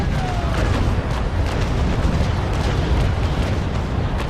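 A broadside of large-caliber ship cannons rolls out in the Naval Action game, a dense, loud, continuous booming roar of overlapping shots with no clear gaps.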